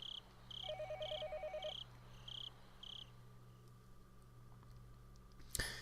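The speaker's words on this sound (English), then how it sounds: "the phone began to ring again" Telephone ringing in a quiet room, a series of short electronic trill bursts repeating in a steady pattern, faint over a low background hum and chirping insects, ending with a sharp click.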